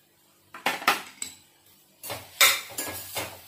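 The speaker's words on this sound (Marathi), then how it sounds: "आणि व्यवस्थित परतून घ्यायचे सगळ्या भाज्या।" Vegetables sautéed in a pan are stirred with a metal utensil, giving several close, sharp scraping and clinking strokes in two bursts, with quiet gaps between them.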